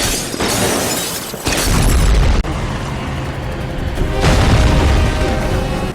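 A loud bomb explosion in the James Bond film Spectre, as Bond shoots the bomb: a heavy booming blast with shattering debris, then a second rumbling surge of fire and crashing that fills the whole stretch.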